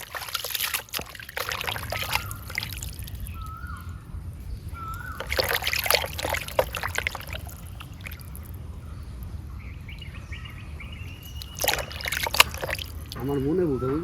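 Water trickles and splashes steadily while broiler chicken meat is rinsed and washed by hand, with intermittent louder splashes and clatter, and people talking over it.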